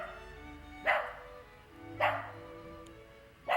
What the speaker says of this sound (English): this dog is wondering who's coming down his street